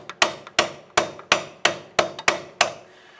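Hammer or dead blow hammer striking the back of a wheel hub flange on a 2002-2007 Jeep Liberty to drive the hub out of the steering knuckle: seven sharp metallic blows at a steady rhythm, close and loud.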